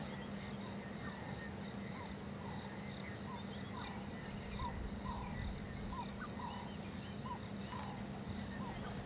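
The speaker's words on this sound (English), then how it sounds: "I can hear already in the background this 360-degree frog noise" Frogs call all around at night during a safari in the South African bush, a dense chorus of repeated chirping croaks over a constant insect trill, moderately loud and continuous.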